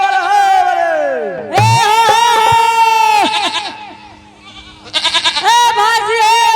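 A goat bleats loudly and repeatedly while being dragged along, its strained cries rising and wavering in several long calls, with crowd noise in the background.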